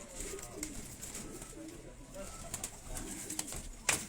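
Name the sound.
pigeons cooing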